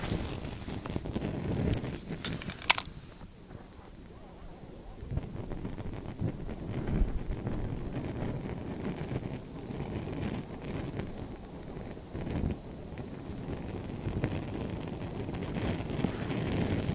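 Wind gusts buffet the microphone outdoors beside a pressurized alcohol stove, a continuous low rumbling roar that swells and eases, with one sharp knock early on.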